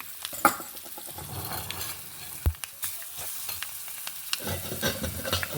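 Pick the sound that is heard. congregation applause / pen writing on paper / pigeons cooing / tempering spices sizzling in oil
tempering spices sizzling in oil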